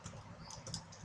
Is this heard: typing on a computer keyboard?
yes